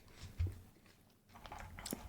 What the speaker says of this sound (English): So sorry for the munching noises, but I need to get a little late night snack. Some cashews, actually.